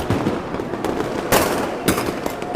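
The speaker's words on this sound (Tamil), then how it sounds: "திருவண்ணாமலை சுற்றி வானவேடிக்கு பயங்கரமாக இருக்கு ஐயா வானவேடிக்கு அது அற்பு அற்புதமாக இருக்குது" Fireworks burst around Tiruvannamalai during the Karthigai Deepam festival, giving repeated crackling pops and two louder booming bangs over a continuous roar of distant explosions, with no voices.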